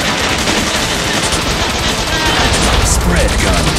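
Rapid machine gun fire in the video game Bot Vice, a loud, dense continuous burst of shots with explosions mixed in, lasting a few seconds.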